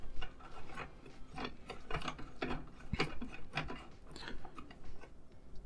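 Threading a microphone onto an Elgato Wave mic arm, a close series of grinding, ratcheting scrapes and small metallic clicks in an uneven rhythm, quiet and without speech.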